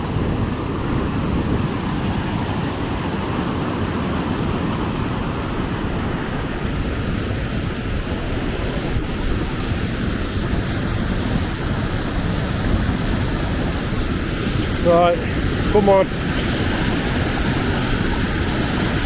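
Rutor waterfall in La Thuile, northern Italy, roars as a steady, loud broadband rush of falling water throughout, with a few brief clicks near the end and a short spoken remark.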